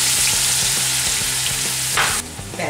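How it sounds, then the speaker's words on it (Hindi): Onion paste fries in oil in a kadai with a loud, dense, continuous sizzle close up. A brief stirring disturbance comes near the end. "प्याज को हमने थोड़ा भून लिया है"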